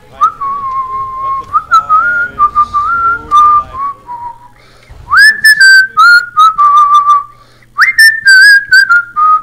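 A person whistles a tune in long, melodic phrases, loud and close, over a Mafia II PC game with music and ambience from its in-game radio, pausing briefly between phrases.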